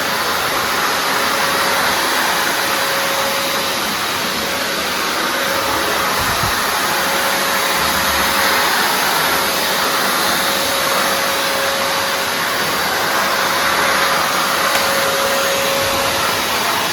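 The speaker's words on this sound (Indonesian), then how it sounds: "Langsung aja kita coba untuk bersihkan menggunakan vacuum cleaner ini." A Mollar VC1008 wet and dry vacuum cleaner, 10-liter, sucks up wood dust in a small workshop, running as a loud, steady, unbroken whine and roar with a constant tone and no speech.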